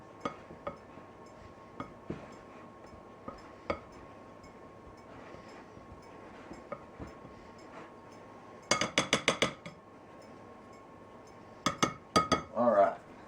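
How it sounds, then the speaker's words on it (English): A pastry cutter works cold butter into biscuit dough in a bowl, giving quiet scattered taps at first, then two loud bursts of rapid metallic clinks and scrapes close by. "I couldn't crush it by hand, so I had to use my pastry cutter"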